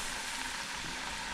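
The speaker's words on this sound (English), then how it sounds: "You just drop them just like that, easy." Plantain slices fry in very hot oil in a home pan, giving a steady, loud, close sizzle with no talking over it.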